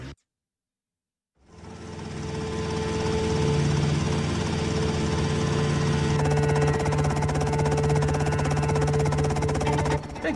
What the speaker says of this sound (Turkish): Pekala, helikopterimiz geldi.